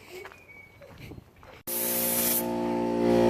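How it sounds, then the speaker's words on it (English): Spray gun laying a base coat on the front bumper of a Kia Optima, a sudden loud continuous hiss up close that starts after quiet room noise and holds steady to the end. "So we're laying the base coat on the front bumper."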